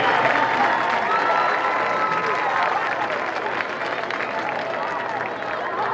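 A stadium crowd at a high school football game gives a steady, sustained round of applause and cheering for a hall of fame inductee, dense and continuous with no gaps.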